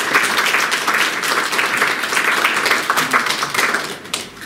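Dense, sustained clapping from an audience at an evening talk welcomes the speaker, steady and fairly loud throughout before tapering off near the end.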